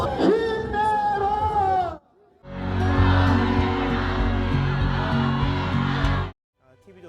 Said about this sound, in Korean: 토론회 참석을 위해 조선일보 사옥에 들어서는 김문수, 한동훈 후보를 향해 지지자들이 형형색색 응원봉을 흔들며 환호합니다.